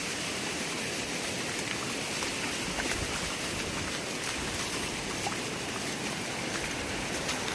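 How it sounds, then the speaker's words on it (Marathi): Flooded river near Kolamb bridge rushing in a steady broadband roar, constant and fairly close, with no voices. "हे बघा नदीला आलेलं पाणी"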